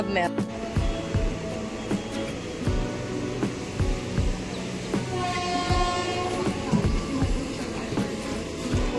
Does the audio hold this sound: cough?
no